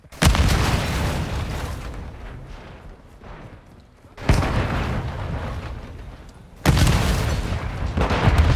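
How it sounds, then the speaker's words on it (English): Grenade explosions in the video game Call of Duty: three loud booms, each followed by a rolling rumble that fades before the next blast. "Throw a grenade."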